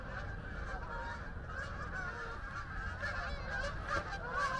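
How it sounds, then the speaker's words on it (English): A flying flock of geese honks in repeated overlapping calls, moderately distant, above a steady broadband outdoor rumble with no talking. "there's a gaggle of geese flying in the air."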